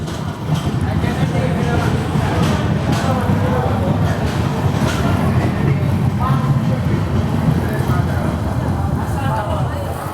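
A passenger train, the Visakhapatnam–Mumbai LTT SF Express, runs with a steady loud rumble and rattle heard from inside a coach, with a few faint voices mixed into the noise.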